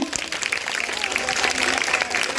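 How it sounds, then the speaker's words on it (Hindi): Village audience applauding a children's street play about infectious disease awareness, a loose outdoor clatter of clapping with a voice talking over it throughout. "एक बार तालियों से इतना उत्साहवर्धन करें"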